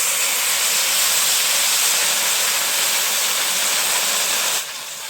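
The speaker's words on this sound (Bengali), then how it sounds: "প্রায় আমি 4 কাপের মতো জল দিয়ে দিলাম।" Water poured into a hot pan of butter pulao rice with turmeric and spices, a loud, steady rushing hiss lasting several seconds before it drops off sharply at the end.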